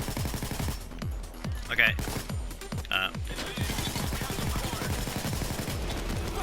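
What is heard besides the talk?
gunfire from the video game Payday 2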